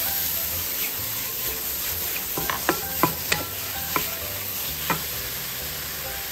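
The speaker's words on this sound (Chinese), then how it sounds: "现在要炒香菇" Shiitake mushrooms stir-fried in a hot pan give a steady soft sizzle, with a few sharp utensil scrapes and clacks as they are tossed, close by and with no talking.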